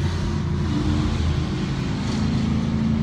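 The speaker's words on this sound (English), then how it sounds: "It's so good to be in a Mustang again with a stick." Ford Mustang with a manual gearbox cruising, its engine giving a steady, loud low rumble from inside the car with no talk over it.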